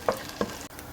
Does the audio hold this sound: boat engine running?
no